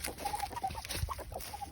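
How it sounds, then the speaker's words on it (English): Backyard chickens cluck softly outdoors, a handful of short, quiet clucks and murmurs in a brief stretch with light ambient noise. "We're doing an outside video with my chickens."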